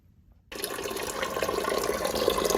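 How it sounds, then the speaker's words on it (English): Water from the submersible pump of a tile saw's water supply system pours steadily, starting abruptly after a quiet moment and continuing as a close, even splashing flow. "This is the water supply system from my tile saw."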